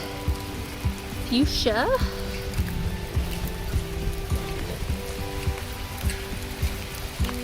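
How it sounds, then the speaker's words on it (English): Hail falls steadily outside, a dense hiss and patter of pellets throughout while someone talks nearby, with a brief whistle-like tone early on. "It's actually hailing out there."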